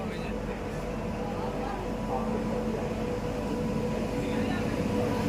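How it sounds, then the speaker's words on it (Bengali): A passenger train pulls into Patna station with a continuous heavy rumble and mechanical drone, close and loud throughout, while people talk over it on the platform. "এই যে ট্রেনটা ঢুকলো"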